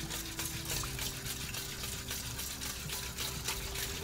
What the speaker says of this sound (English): And then we're going to add 1 cup of water as well.